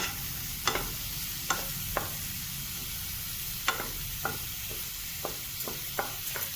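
Mushrooms sautéing with a sprinkle of salt in a pan give a low, steady sizzle, with a dozen or so sharp, brief scrapes and taps from stirring close by and no speech.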